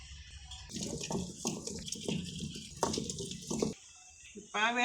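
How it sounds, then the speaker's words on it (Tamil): Water is sprinkled onto ground peanuts and coconut in a traditional stone grinder, giving soft splashy trickles while a person talks over most of it. "கொஞ்சம் தண்ணி தெளிச்சிக்கலாங்க."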